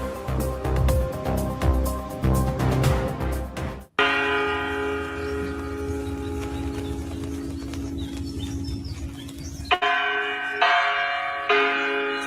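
Resonant bell tones ring out with lingering overtones, loud and close, and change to a different sustained ringing partway through with no voices.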